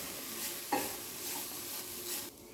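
Grated coconut frying in a pot on a gas stove, a soft continuous sizzle with a brief scrape of stirring near the start, fairly quiet and with no talk.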